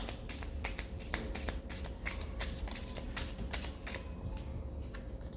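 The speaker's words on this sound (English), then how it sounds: "I didn't even know this is called riffle shuffling" A deck of cards is riffle shuffled repeatedly close by, producing rapid fluttering bursts of card clicks in a steady rhythm with no talking.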